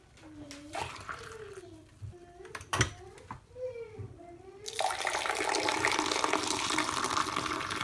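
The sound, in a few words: tea being poured to mix in the sugar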